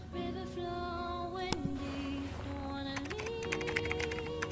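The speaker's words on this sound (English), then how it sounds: "He's typing." Typing on a computer keyboard, a close, rapid run of light key clicks that grows busier toward the end over a steady tonal background hum.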